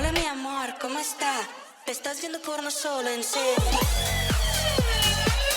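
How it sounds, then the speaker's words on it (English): Music from a Numark Mixstream Pro DJ controller run through a flanger effect, with a sweeping, whooshing tonal shimmer and a heavy beat entering partway through, loud and continuous with no voices. "And flanger is an effect that sounds like this."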